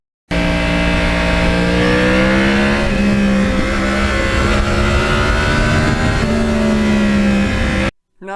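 A 2009 Yamaha R1 crossplane inline-four motorcycle engine revs loudly and steadily at close range, its pitch rising and falling through several throttle blips before cutting off abruptly near the end.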